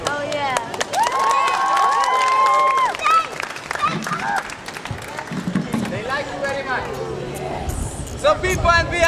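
A crowd at a live breakdancing show claps and cheers for the dancers, mixed with shouting and loud talk over music-like tones. Bursts of noise rise and fall across the stretch.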